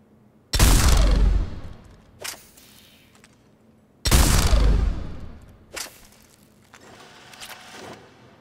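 Executioner pistol fired while sighted in the shooter Mass Effect 3: two heavy, booming shots about three and a half seconds apart, each trailing a long ringing decay and followed by smaller mechanical clacks, with no voices.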